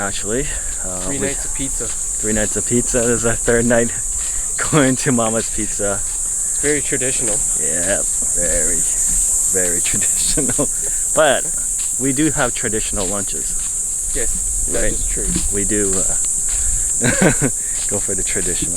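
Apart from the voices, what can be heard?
cicadas chirping loudly on a beach at night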